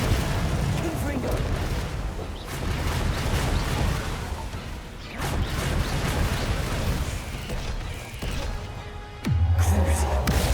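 Confringo fire spells in Hogwarts Legacy, with muffled blasts and bursts rising over dense battle noise and a swelling low rumble, and a deep thud near the end.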